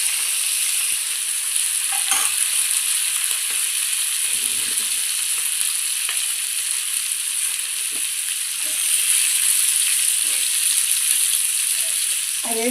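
Food fries and sizzles steadily in a home kitchen pan, a constant hiss with occasional scraping and clinks as it is stirred, and faint voices in the background.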